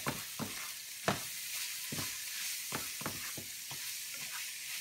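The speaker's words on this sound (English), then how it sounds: "Now we're going to add that beef back in there." Beef stirred in a hot pan for a keto crack slaw, a steady sizzle broken by repeated scraping clicks of the utensil against the pan, close-up with no talking.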